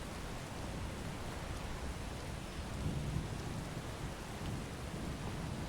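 Steady rain with a low rumble of thunder in the virtual reality game Skyrim, a continuous dense wash of drops holding at an even, moderate level with a slight swell near the middle and no voices.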